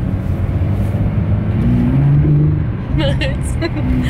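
A 750-horsepower Porsche climbs in gear with a deep, loud, continuous engine rumble from inside the cabin, while people inside keep talking over it.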